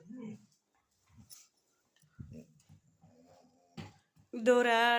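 A dog gives faint, scattered whimpers and small yips, then ends with a loud, drawn-out whining howl; a voice is briefly heard between.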